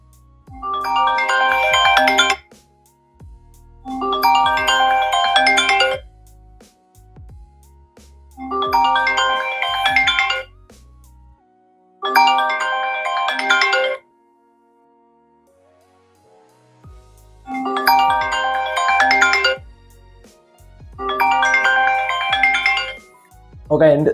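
A melodic ringtone plays through an iPhone 12 Mini speaker in repeated phrases separated by short pauses, fairly loud and close, with light handling noise between phrases.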